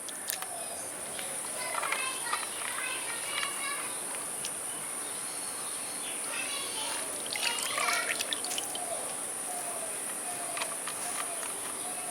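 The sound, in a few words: water draining from washed potatoes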